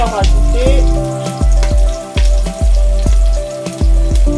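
Onions sizzle steadily in a hot pan, with repeated clanks of a utensil scraping and stirring every half second or so, close and loud.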